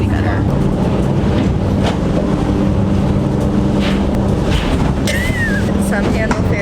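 Inside the lower deck of a ferry from Koh Tao to Koh Samui, a loud, steady engine roar and hull rumble fills everything without letup, with speech faintly underneath.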